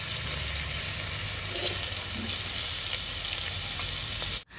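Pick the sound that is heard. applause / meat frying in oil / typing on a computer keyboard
meat frying in oil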